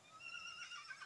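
A horse neighs in a brief, faint, high whinny heard at a distance in a quiet outdoor setting.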